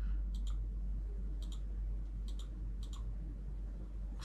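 Computer mouse clicking during Gmail table editing: a handful of faint, crisp paired clicks spaced irregularly over low steady room hum, with no talking.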